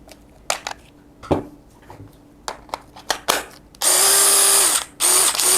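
An impact wrench fitted with a keyless chuck is run as a drill, first in short clicking bursts and scattered knocks, then in two long, loud, high-pitched whirring runs close by.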